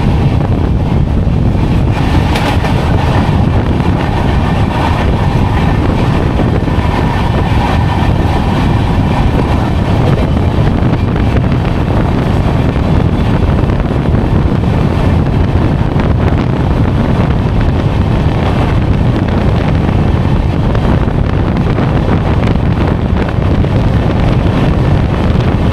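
Falaknuma Express, the 12704 Secunderabad to Howrah train, pulls into a station with a steady, heavy broadband rumble that lasts throughout. Wind buffets the microphone, and there is no talk.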